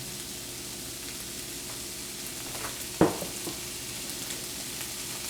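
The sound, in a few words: stirring ground cumin into beans frying in a pan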